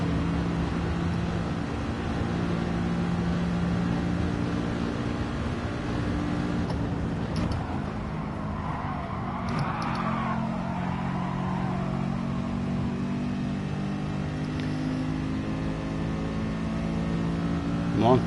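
Race car engine drone in Gran Turismo Sport, a steady mid-loud hum that holds throughout, with a brief rise in revs midway and a quiet voice talking under it.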